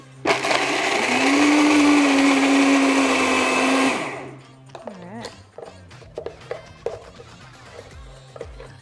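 A Vitamix blender grinding pecans, pepitas and other nuts: a loud, steady high-speed roar for about four seconds that winds down and stops, followed by scattered clatter and knocks.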